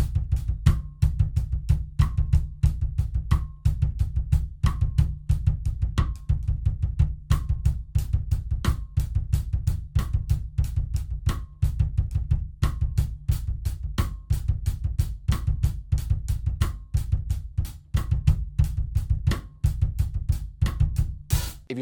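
A kick drum plays a fast heel-down pattern of five sixteenth notes on the right foot, with steady punchy low thumps repeating throughout alongside a faint clicking beat.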